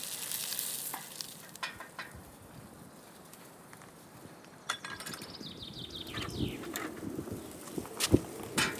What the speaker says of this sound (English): The tomatoes release their juices almost instantly, creating a sizzling, tangy sweet aroma